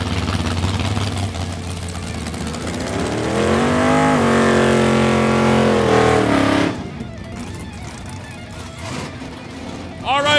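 A drag race car revs on a hot lap at a Canadian drag racing event. The loud engine climbs steadily, holds a high roaring pitch, then cuts off abruptly, with an announcer talking over the PA.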